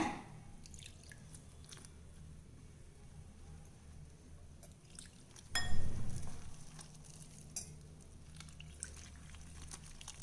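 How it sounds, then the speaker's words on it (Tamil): Water is poured briefly into thick pakora batter, a short wet splash midway amid soft clinks and quiet kitchen background. "இப்போ இதில் நம்ம கொஞ்சம் தண்ணி விட்டுக்கலாங்க."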